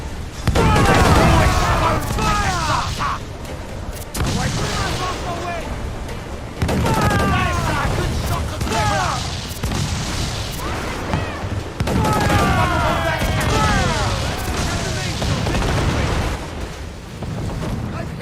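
Ship cannons firing in Assassin's Creed IV Black Flag during a naval fight with a Spanish ship, repeated heavy booming volleys spaced several seconds apart amid rumbling battle noise and voices.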